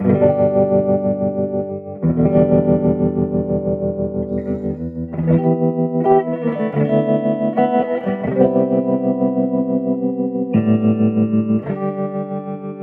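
A Silvertone 1484 amplifier plays electric guitar sustained chords and notes, its volume pulsing in a slow, steady tremolo throb at low speed and full intensity.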